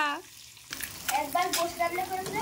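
An egg frying in a pan gives a steady soft sizzle with light crackle, fairly close, and a voice is heard briefly at the start.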